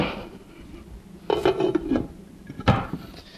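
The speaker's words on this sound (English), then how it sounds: "Now I'm going to just put a top on this." A lid is set onto a pot of vegan chili beans stewing on the stove, with a couple of close metallic clanks and a brief scrape against the rim amid faint kitchen background.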